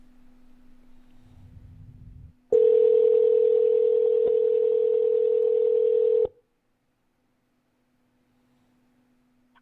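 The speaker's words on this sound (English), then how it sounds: "So we'll just let that ring and go to voicemail" Outgoing phone call ringing through to a business line: a steady tone, then a single long, loud ringback buzz lasting several seconds, followed by near silence, with no voices.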